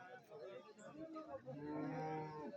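At a livestock market, buffalo give a drawn-out low bellow in the second half, while faint background chatter from the crowd runs underneath.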